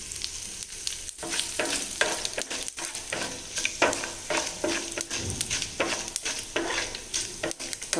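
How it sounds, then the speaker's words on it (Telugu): Two dried red chilli pieces fry in hot oil as a tempering for a large brinjal curry. A close crackling sizzle comes with frequent scraping stirs and occasional clicks, irregular and busy, with no voices. "వేగిపోయిందండి పోపు."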